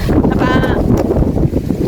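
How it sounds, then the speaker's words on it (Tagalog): Strong wind gusting outdoors at a plant sale, a steady loud rush buffeting the microphone throughout, with a brief whistling tone in the middle. "sobrang lakas ng hangin"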